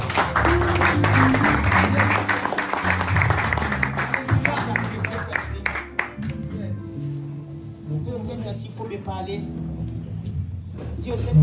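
Church congregation clapping and cheering during a French-language service, a dense loud wash of applause that thins out, with voices and music tones mixed in.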